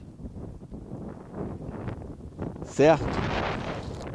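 Strong wind gusts buffet the microphone on the Morro da Cruz hilltop, a rushing roar that swells sharply partway through while a voice speaks briefly.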